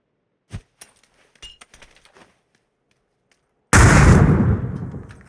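In the video game PUBG, a few sharp clicks and pops, a pause of near silence, then a sudden loud explosion that booms and slowly decays.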